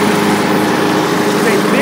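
A Craftsman LT2000 lawn tractor mows a huge hill, its engine a close, steady drone that holds without a break from start to finish.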